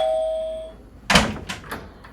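A doorbell rings with a sustained electronic tone that fades out, followed by a few sharp knocks or thuds, close and clear.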